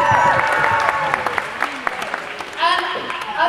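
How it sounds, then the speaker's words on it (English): Audience applause at the close of a talk or event, a broad wash of clapping mixed with voices and cheers, swelling again near the end. "give yourself a round of applause"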